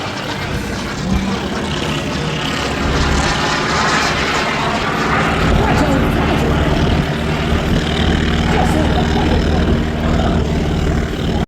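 The JSX-003, the first kit aircraft ever sold and flown, passes at an airshow with a loud, continuous engine drone that swells and holds steady throughout, with no talk over it.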